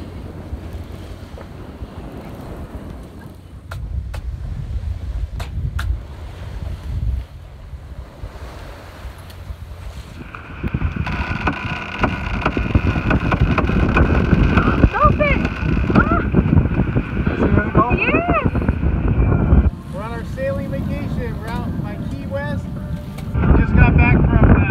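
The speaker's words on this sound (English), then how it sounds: "There we go, we're sailing nice now." A sailboat under way from Key West toward Sand Key, with steady wind buffeting, waves and water rushing past the hull, and intermittent voices over the continuous noise.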